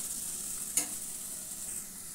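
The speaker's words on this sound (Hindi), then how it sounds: "ये सिर्फ हमें थोड़ा सा फ्राई करना है" A bread sweet dish is given a light fry in a pan, a faint, even sizzle under gentle stirring, with one quick scrape of the spoon.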